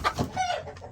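Chickens clucking close by in a backyard coop with nesting boxes, a quick run of short, bright fowl calls with a few louder squawks in one second, no talking.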